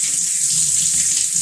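Tap water runs steadily into a sink as rusty sockets are rinsed with soap after an Evapo-Rust soak, a constant close hiss with no pauses and no voices.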